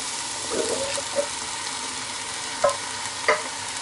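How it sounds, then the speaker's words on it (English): Diced tomatoes and a four-bean mix tumble into a hot pot for bean chili and get stirred, a soft sizzle under wet scraping with a few sharp clinks of the spoon against the pot, close and with no voices. "I'm going to throw in my diced tomatoes, my 4 bean mix"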